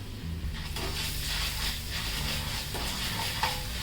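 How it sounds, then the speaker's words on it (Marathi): Onion frying with ginger-garlic paste in a pan, a continuous close sizzle with soft stirring scrapes and a faint clink near the end, without talk. "हे आलं लसूण आहे ना ते पण एक अर्धा मिनटं चांगलं व्यवस्थित परतून घ्या"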